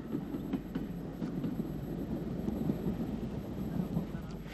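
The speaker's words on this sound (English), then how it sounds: "U-Class 440 No. 204 Antrim, built by Bear Peacock in 1948, arrives at Fintna Junction with the train from Omagh" A U-Class 4-4-0 steam locomotive, No. 204 built by Beyer Peacock in 1948, arrives at Fintona Junction with a train from Omagh, a steady low rumble of rolling wheels and carriages, continuous and moderately loud with faint clanks.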